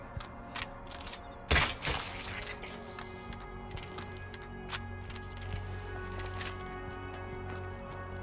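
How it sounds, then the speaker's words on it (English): Weapon reloading in a video game: a loud metallic clack and rattle near the start, followed by scattered small mechanical clicks and ticks over a quiet ambient hum. "I should reload."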